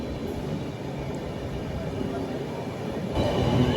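The Tirumala Express standing at platform 2 of Tuni station: a steady, close rumble of the train with continuous broadband noise that grows slightly louder near the end, with no clear voices.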